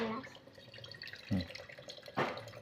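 Coconut water trickles and drips into a glass, with a few louder splashing pours standing out over a quiet household background.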